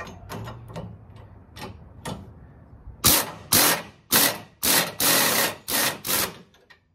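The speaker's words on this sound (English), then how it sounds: "I'm using a 13/16 socket on the impact gun, and just an adjustable wrench for this" An impact gun with a 13/16 socket drives a rear bumper bolt on a 2021 Jeep Gladiator, first with light clicks and taps, then six loud, close bursts of hammering rattle in quick succession.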